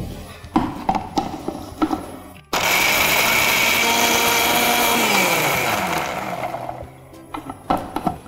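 A mixer grinder blends watermelon rind for a zero-waste halwa, its loud steady whirring motor running for about four seconds before winding down, with a voice briefly talking before and after.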